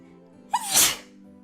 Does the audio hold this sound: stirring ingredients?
no